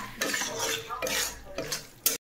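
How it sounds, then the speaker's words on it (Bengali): Utensil stirring chili sauce and tomato sauce in a pan for chicken chowmein, a close scraping and clinking that rises and falls in several strokes, with a sharper knock near the end and no talking. "নেড়ে নেবো ভালো করে।"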